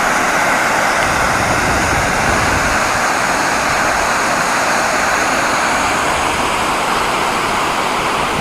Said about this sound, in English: I am at the Ethipotala Waterfalls, and just take a look at these waterfalls